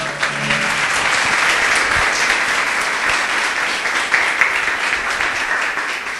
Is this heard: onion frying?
no